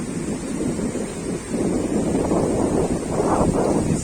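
Water sprays toward the camera amid steady gusting wind near Dubai's Museum of the Future, a continuous broadband hiss and splash that swells louder about halfway through.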